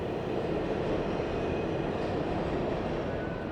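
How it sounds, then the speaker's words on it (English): A New York City subway train rumbles steadily on its tracks, a dense, loud, unbroken roar with a faint high whine running through it, close and with no voices. "Yes, that is the sound of the New York subway."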